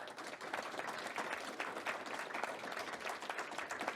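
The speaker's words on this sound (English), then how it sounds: "Meet the sponsors, clap it up." An audience at a networking class applauds for the event sponsors, a dense, even patter of many hands clapping, fairly faint and steady for a few seconds, with no voices clearly heard.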